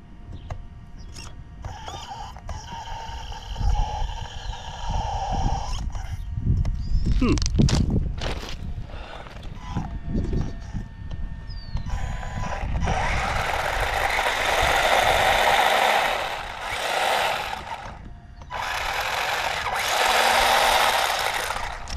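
An ARRMA Typhon Grom 1/18 RC car motor, its pinion loose, spins up to a steady high whine that holds for several seconds, rising and dipping as it revs. Loud and close, after a stretch of handling noise and clatter.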